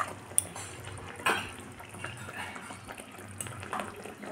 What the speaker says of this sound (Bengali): তারপরে দিচ্ছি এই বাটির মশলা ধোয়া জলটা